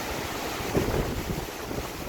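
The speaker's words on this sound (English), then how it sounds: "I think once there's less wind," Wind blows outdoors on an off-grid homestead in autumn, a steady rushing buffeting of the microphone with a slight gust partway through.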